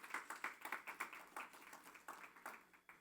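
Applause from a church congregation, a small group clapping with distinct, fairly regular claps, moderately close, no talk.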